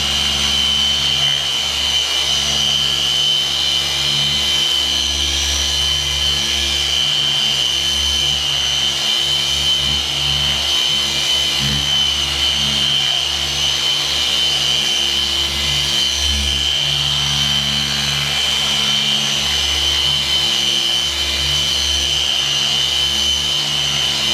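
A car paint polishing machine drones loudly and steadily on the paint for the whole stretch, a constant motor whine with a high tonal hum and slight wavering load.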